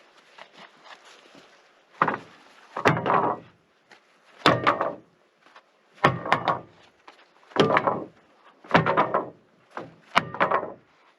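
Quarter sawn boards at a sawmill are knocked to shake sawdust off, giving a series of about seven sharp wooden thunks in a loose, uneven rhythm, close and distinct against quiet.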